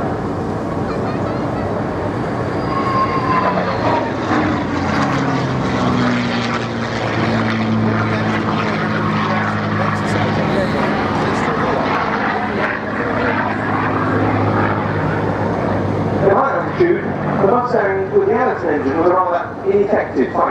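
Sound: Mustang fighter aircraft with Rolls-Royce Merlin engine flying

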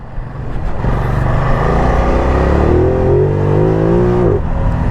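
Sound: Ducati Multistrada V2S motorcycle engine accelerating

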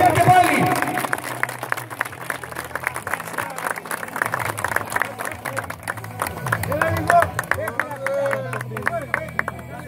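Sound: applause at a medal ceremony

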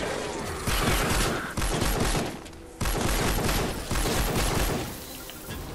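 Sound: gunfire in the video game Fortnite Save the World

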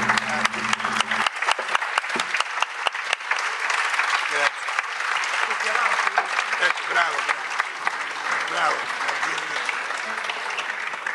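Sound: audience applause at a folk concert

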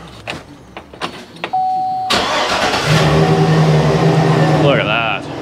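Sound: old truck engine starting and running

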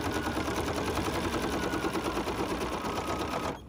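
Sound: embroidery machine sewing edge to edge quilting

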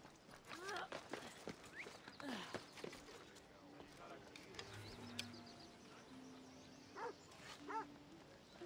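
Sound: dog barking in Assassin's Creed Odyssey video game

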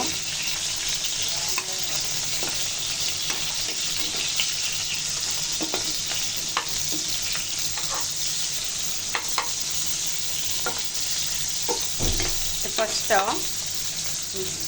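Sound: hilsa fish tails frying in mustard oil, turned over

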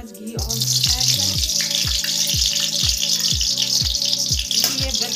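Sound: ghee sizzling in a hot pan

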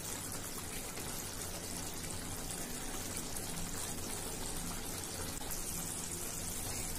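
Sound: pouring coconut milk into prawn thokku in clay pot

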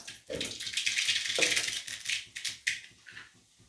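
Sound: mustard seeds popping in hot oil

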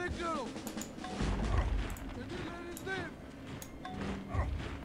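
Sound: cannon attack in video game Civilization 4

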